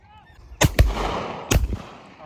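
Shotgun blasts at a game shooting peg outdoors: two loud close reports in quick succession, then a third after a pause, each tailing off in a ringing echo, with faint goose-like calls early on.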